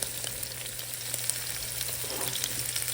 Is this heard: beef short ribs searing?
yes